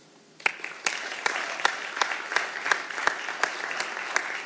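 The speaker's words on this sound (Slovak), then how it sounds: "poprosím vás ešte o jeden taký veľký spoločný potlesk" Audience at a youth-worker award ceremony gives a sustained round of applause, starting abruptly and continuing steadily with many close, sharp claps throughout.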